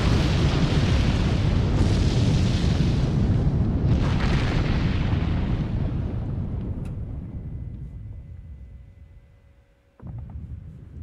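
Artillery strike explosions in the World War II strategy game Sudden Strike 3, heavy overlapping booms with a rolling rumble that slowly fades, followed by quieter hums and then a sudden new blast near the end.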